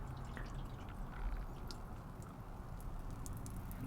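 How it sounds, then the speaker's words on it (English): Water drips faintly and steadily from the sunroof drain of a Land Rover Discovery during a leak test. The soft, quiet pattering sits over a low background hiss. "it's dripping out where it's supposed to"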